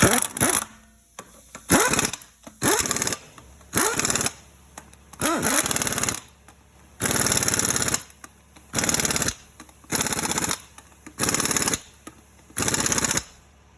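Air impact wrench running in about nine short, loud bursts as it tightens the wheel nuts on a Chevy Malibu wheel in a crossing pattern, with brief pauses between each rattling blast.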